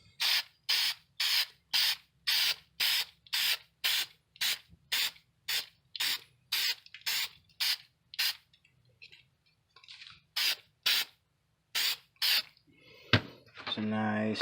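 A clear acrylic coating is sprayed onto a batarang cosplay prop in about twenty short, loud, evenly spaced bursts, each a sharp hiss with brief pauses between. A few softer rustles follow near the end.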